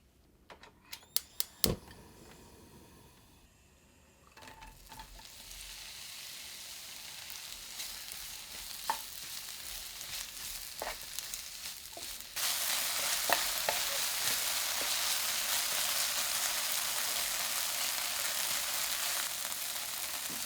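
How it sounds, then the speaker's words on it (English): Oil sizzles steadily in a pan after a few sharp clicks and clatters, green onion frying in sesame oil at medium heat, the hiss growing louder and denser partway through, with occasional stirring taps. "Heat the sesame oil in a frying pan and fry the green onion at medium heat until it becomes soft."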